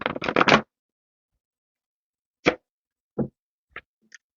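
Cards are riffled in a quick burst, followed by a few scattered taps and flicks with silence between them.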